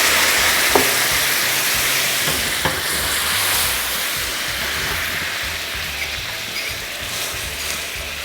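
Clementine juice poured into hot butter caramel for crêpes Suzette, a loud, close, continuous hiss and sizzle that slowly settles with a few small clinks, no talk.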